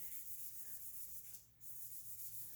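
Wet sanding on new car paint with orange peel makes a soft rhythmic rubbing hiss, close and quiet, with strokes swelling and easing and a brief pause near the middle, no voices.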